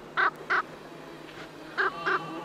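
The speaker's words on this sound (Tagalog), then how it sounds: "Ilingan moy en ibon hidi" Several short bird calls in two pairs, a pair of sharp calls near the start and another pair near the end with a fainter one between, heard alone against a quiet outdoor background.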